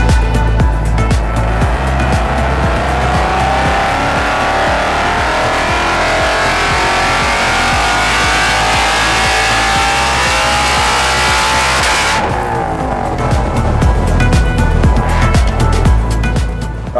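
A supercharged 850 bhp Ford Mustang GT roars at full throttle on a dyno, engine pitch climbing steadily through the rev range for about twelve seconds before dropping off, loud and continuous with crackling overrun afterward.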